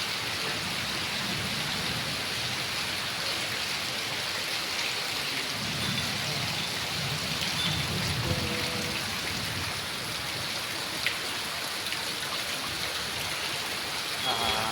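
Heavy monsoon rain pours steadily in Ahmedabad during a thunderstorm with lightning, a dense, even hiss of downpour close by, with low murmuring voices briefly beneath it.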